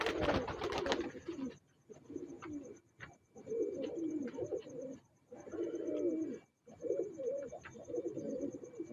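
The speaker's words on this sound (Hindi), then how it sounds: "ये जौंसरी मादी है, इसके साथ सफ़ेद कबूतर है।" Soft, throaty pigeon coos repeat in bursts with short pauses between them, close by, over a faint background hiss, from Sialkoti pigeons.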